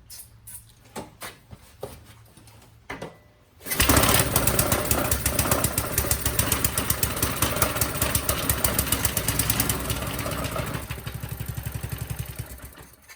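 A Qualcast 35s petrol lawn mower being pulled a few times, then its engine catches and runs loud with a rapid chugging beat, settling slightly quieter near the end.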